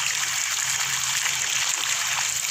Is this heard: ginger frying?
no